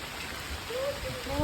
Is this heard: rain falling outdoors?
yes